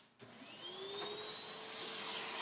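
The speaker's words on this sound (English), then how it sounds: "We're going to vacuum our surface." Vacuum cleaner running over a freshly sanded, primed surface before lacquer finishing, switching on with a rising whine that settles into a steady loud drone.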